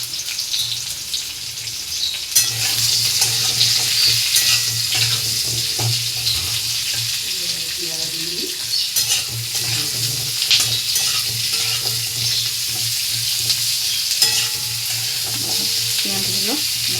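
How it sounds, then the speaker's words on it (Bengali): Diced onions fry in oil in a pan, giving a steady close sizzle with scraping and stirring strokes that carry on throughout. "পেঁয়াজগুলো ভাজা ভাজা করে নেব।"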